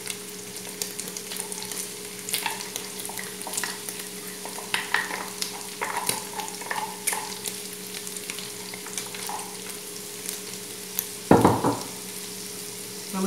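Garlic and onion frying in a pan while being stirred for a pea and yam soup: steady crackling sizzle with scattered pops and utensil scrapes, close and continuous, with a louder clatter near the end.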